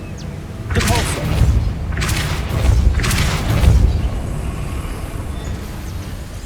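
Spell blasts from the Depulso force-push charm in Hogwarts Legacy, three heavy booming thumps about a second apart, fairly loud over a low rumbling game ambience that fades to a quieter bed afterward.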